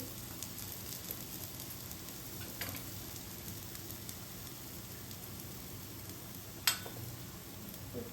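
Besan puda, a gram-flour pancake, frying in a little oil on a pan, a soft steady sizzle with a few light clicks and one brief sharp tap.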